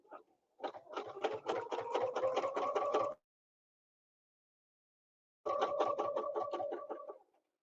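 A sewing machine doing ruler-template quilting stitches in a fast, even run of needle thumps for about two and a half seconds, pauses, then runs again for nearly two seconds, close and clear with no talk.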